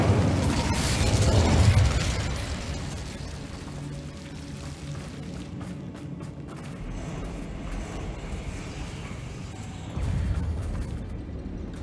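A fiery Incendio spell cast in the Hogwarts Legacy video game, a loud whooshing burst of flame that swells over the first two seconds and fades into a rumbling crackle, with another surge near the end.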